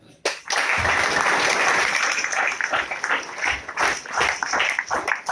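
Audience applause at an RCM business seminar in Changoba, a dense sustained roar of many hands clapping that swells after a sharp start and continues steadily for several seconds.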